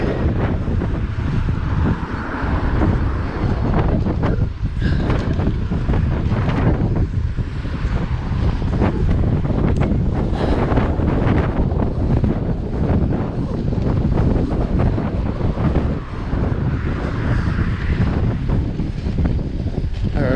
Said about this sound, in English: Sorry if it sounds a bit windy. The wind's a bit crazy here.